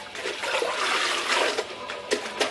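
Water sloshing and splashing as a mop is rinsed in a mop bucket, a steady close wash of liquid noise with a few sharper splashes near the end.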